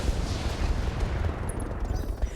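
Weapons fire on a mortar carrier during a RogueTech mech battle, a dense rumbling wash of gunfire and booming blasts at moderate level.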